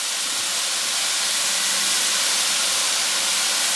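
Garlic, ginger and jalapeno sizzling in a hot pan, a loud steady bright hiss of frying that holds evenly throughout, close and without talk.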